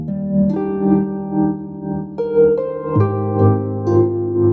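Sustained chords pass through a Hologram Electronics Chroma Console pedal with tremolo placed after the reverb, so the reverberant wash swells and dips in clear rhythmic pulses across a few chord changes, close and even, without voices.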